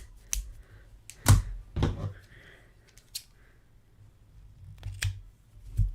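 Scissors snip crochet yarn in a few sharp, close clicks spaced irregularly, with quiet handling between cuts.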